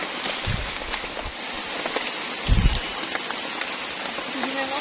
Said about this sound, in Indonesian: Jadi memang sampai jam segini tuh hujannya belum reda dan masih mendung-mendung putih.